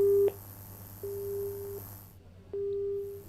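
A telephone busy tone after a disconnected call: three steady, loud beeps separated by short silent gaps, with no voices.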